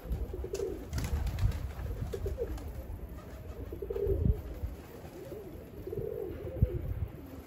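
Tumbler pigeons cooing in soft, repeated low coos spaced a second or two apart, fairly close, with faint rustling and small knocks between calls.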